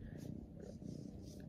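A house cat purrs close by in a steady, rhythmic low rumble that pulses evenly throughout, with a faint murmur of voice in the background.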